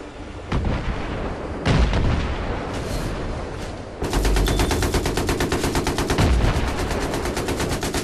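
Battlefield 3 multiplayer combat roars continuously with heavy explosions and booming artillery-like blasts. Dense rapid gunfire layers over the blasts, loud and close, with no talk.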